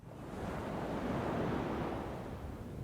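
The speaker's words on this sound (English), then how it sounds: "The sound of ocean waves." Ocean waves in Los Angeles, a steady broad wash of surf with a soft rise and fall and a little wind noise, continuous and moderately loud.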